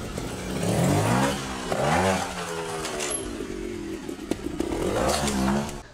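A trials motorcycle revs up in short throttle bursts, rising and falling several times as the rider prepares to jump an obstacle, close and fairly loud with clattering mechanical noise between revs.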